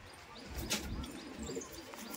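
An Andhra racing pigeon being readied for a tournament coos softly nearby, with brief low calls over a quiet background.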